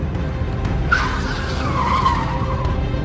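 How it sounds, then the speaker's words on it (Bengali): A car's tires skid in a short, sharp screech about a second in, fading over the next two seconds against a low engine rumble, used as a chase sound effect in a detective audio story. "মলি আর ভিক্টর নিজের নিজের গাড়িতে বেরিয়ে পড়ল"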